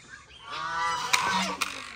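Ducks being herded and chased indoors, giving loud, close, nasal honking calls that rise and swell over about a second, followed by a couple of sharp knocks or clatters.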